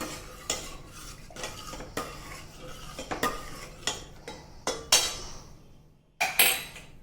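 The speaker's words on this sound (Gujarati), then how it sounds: "હવે આપણે કુકર ખોલીશું." Pressure cooker of rice being opened for dudhpak: a run of metallic clanks, scrapes and lid knocks, irregular and close, ending with a sharp clatter after a brief pause.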